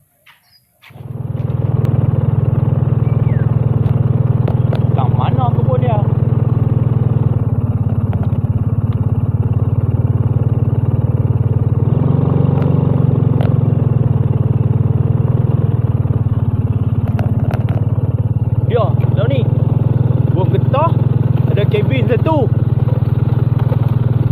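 A motorcycle engine runs continuously at a steady drone throughout, close and loud, with faint voices now and then.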